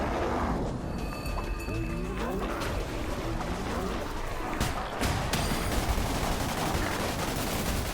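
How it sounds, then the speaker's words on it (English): Rapid machine gun bursts crackle through combat in the video game Cult of the Lamb, dense and continuous under game effects and music, with a player talking over the action. "He has machine guns!"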